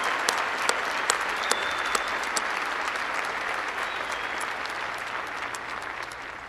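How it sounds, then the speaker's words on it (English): A large crowd at a university winter commencement claps for the graduates, sustained broad applause with a few sharp individual claps standing out early, gradually easing toward the end. "I'd like to ask everyone to give them a huge round of applause for their achievement."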